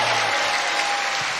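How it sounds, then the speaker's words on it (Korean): Dense, even applause from an audience at a speech rally, a close wash of many clapping hands throughout the short moment. "다시 한번 우리 박수로 감사하겠습니다"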